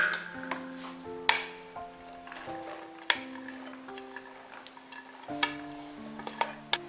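Chopped drumstick pods go into a hot pan and are stirred, with a steady low sizzle under scraping and clinking of a spoon against the pan, close and unbroken, with no talk.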